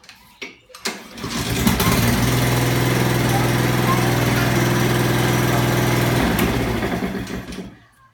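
A Honda easy-start lawnmower engine catches after a few pulls, then runs at a loud, steady high-pitched buzz for several seconds close by before winding down and stopping.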